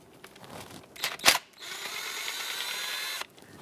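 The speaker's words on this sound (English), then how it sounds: "Remove all the valve cover bolts, starting from the outer ones, working your way towards the middle. They're all 8mm in size." A ratchet works loose 8mm valve cover bolts on a 3.6L Dodge Grand Caravan engine, with a few close mechanical clicks and a sharp burst, then a steady whirring rattle for about two seconds before stopping.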